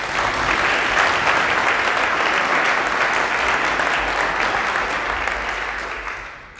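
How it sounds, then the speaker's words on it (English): Audience applause at the 1982 Booker McConnell Prize ceremony, a dense, steady wash of many hands clapping that holds loud and even for several seconds before tapering off at the end. "Applause."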